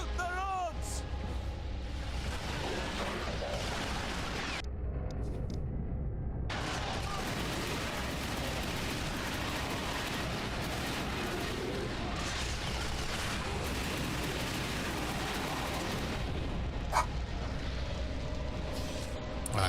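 Dense gunfire and heavy explosions rage in the video game Resistance: Fall of Man, loud and nearly constant, with a brief drop in the middle. Soldiers shout orders over the battle.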